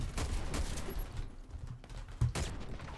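Rapid bursts of automatic gunfire from an Uzkon UNG-12 shotgun in the shooter game Warface crack loudly and near, with a sharp standout shot near the end.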